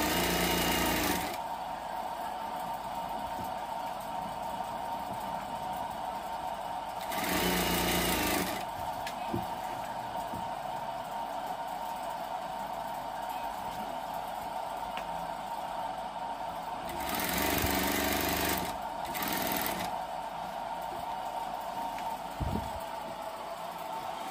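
An electric sewing machine stitches a full-size umbrella in a workshop, running in a steady motorised hum with several louder bursts of rapid stitching between quieter stretches, close and without talk.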